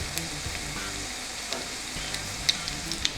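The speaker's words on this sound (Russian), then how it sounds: "я жарю рыбу в кляре всегда накрывая крышкой" Battered fish fries in a pan with a steady crackling sizzle and occasional sharper pops and spits, close and continuous with no talk.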